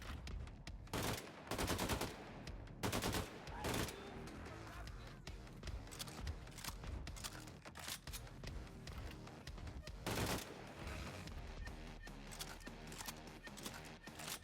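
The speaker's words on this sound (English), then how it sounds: "If you get too close to the edge though, they can just shoot you through the railing" Enemy gunfire in the shooter game Gunslinger Joe: dense, rapid bursts of shots crackle continuously, with louder volleys standing out over a busy game backdrop.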